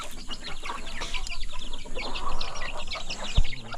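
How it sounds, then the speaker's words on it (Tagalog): A crowd of chicks peeps in busy, overlapping high chirps, close and continuous, with a faint low clucking beneath. "sisiw."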